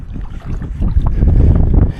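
Strong wind buffets the microphone outdoors while someone fishes for trout, standing thigh-deep in water. It makes a loud, close, low rumbling roar that swells and stays heavy for the whole moment.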